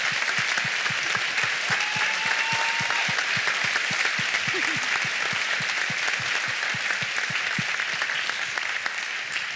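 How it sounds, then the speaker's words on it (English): Film festival Q&A audience applauding, dense sustained clapping from a full room that stays steady and loud throughout. "please, a huge round of applause for Michael Brockington."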